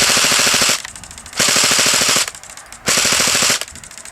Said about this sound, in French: une bonne rafale sur un mec